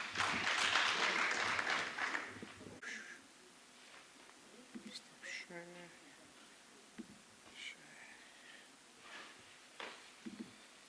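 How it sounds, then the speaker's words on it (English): A seated audience at an election-commission roadshow claps for a speaker, a brief burst of applause at the start that fades into quiet room noise with scattered movements and a voice. "Let's clap for him."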